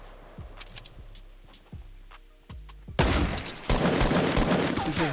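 Gunfire from players fighting in the Fortnite video game, with scattered sharp shots and thumps early, then a dense, loud burst of rapid fire continuing to the end.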